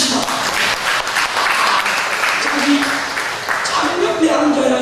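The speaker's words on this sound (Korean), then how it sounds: "박수 한번 칩시다." A church congregation claps steadily and loudly throughout a worship service, a dense continuous round of applause with voices faintly mixed in.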